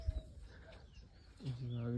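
A white pigeon, caught and held in hand, gives a short throaty coo near the end, close by, after a stretch of quiet handling noise and faint background.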